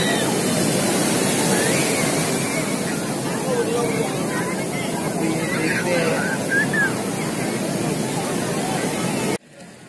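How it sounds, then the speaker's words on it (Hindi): Surf and steady wind noise buffet the microphone at Digha beach, a loud, continuous wash with faint crowd murmur underneath, cutting off abruptly at the end. "आज हम लोग आए हैं दीघा बीच में"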